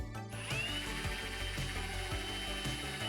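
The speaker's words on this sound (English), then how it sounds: "We do that simply by drilling some holes for some screws, countersinking the holes" A power drill bores and countersinks screw holes in a wooden plate for mounting casters on a worktable, giving a steady close whirring grind with rising pitch as the bit cuts through the wood, no talking.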